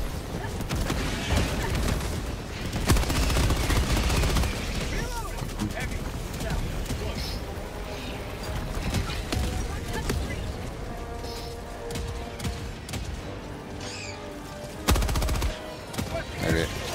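A Rocket Sentry turret in Helldivers 2 fires during a co-op fight against Terminids, sending rapid gunfire and heavy booms throughout while players talk over it.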